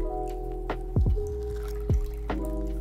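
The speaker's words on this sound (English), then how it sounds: "just squeeze out some lemon juice from these" Lemon juice squeezed out with a handheld citrus squeezer while making Danishes, giving several short wet squishes and drips close by, spaced irregularly over a low steady background hum.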